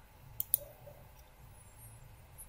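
A pair of quick, sharp mouse clicks on an accept button while setting up a screen recording, close and alone over faint room hiss.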